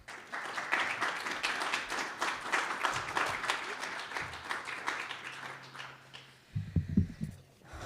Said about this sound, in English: let's give a round of applause for our speaker, Alicia Tucker.